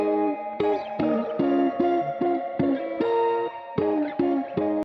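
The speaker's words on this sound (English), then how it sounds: "And I also have it pitched up an octave with some cool reverb effects on top." An electric guitar pitched up an octave plays short, choppy plucked notes drenched in reverb, the rhythm bouncy and uneven, with echoing tails between hits.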